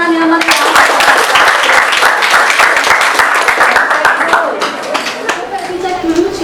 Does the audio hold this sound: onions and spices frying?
no